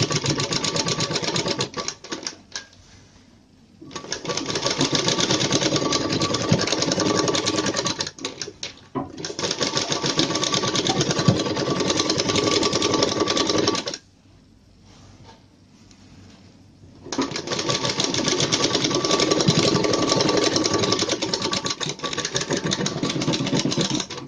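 A sewing machine stitches along a fabric edge, its motor whirring steadily in long runs that pause twice before starting again, close and clear with no talking.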